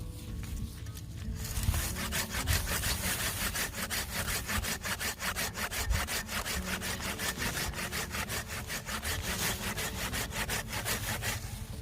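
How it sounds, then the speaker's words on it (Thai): A hand saw cuts through wood on a mixed farm plot, its back-and-forth strokes rasping in a fast, regular rhythm close by and loud, with no talking. "เดี๋ยวจะเลื่อยอันนี้ออกก่อน"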